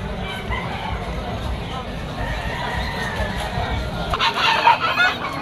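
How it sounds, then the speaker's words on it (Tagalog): Chickens cluck and roosters crow amid a busy tiangge market in Malabon, Philippines, where live fowl are sold, with a steady crowd murmur and people talking throughout, the bird calls growing more prominent near the end. "Mga manok ng Padre Garcia to mga tol."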